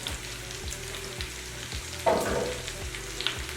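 Onions cooking in butter in a pan over medium-low heat, a continuous close sizzle with a louder burst of crackling about halfway through and light stirring scrapes.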